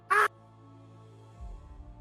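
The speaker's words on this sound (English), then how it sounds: "You hear the sound of birds screeching on the wind." A single loud, harsh bird screech, like a distant bird of prey carried on the wind, cuts through a quiet humming background and is followed by a low rumble.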